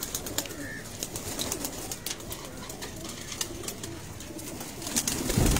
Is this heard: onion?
no